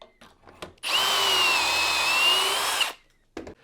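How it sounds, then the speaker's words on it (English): A power drill bores dowel holes into the wood of a hard-chined entryway table, one steady whining burst of about two seconds, loud and close, with brief handling knocks before and after. "so both sides are drilled now"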